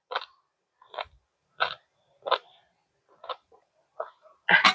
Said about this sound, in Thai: ในมันเคี้ยวแล้วแตกเป็นน้ำเนี่ย